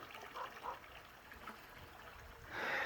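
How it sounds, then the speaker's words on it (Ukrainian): Water flows steadily outdoors in a trickling, gurgling stream, faint and continuous with a few brighter splashes toward the end and no talk. "Вон водичка як тече капітально."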